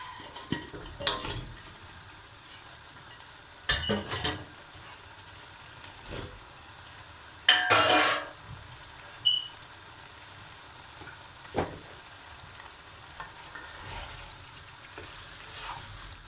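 Potatoes and cauliflower sautéing in curry sauce for one-pot aloo gobi: a soft, low sizzle broken by several short, louder bursts of stirring and scraping, with no one talking.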